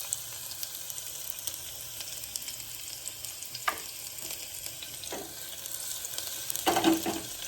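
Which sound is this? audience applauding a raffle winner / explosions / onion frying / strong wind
onion frying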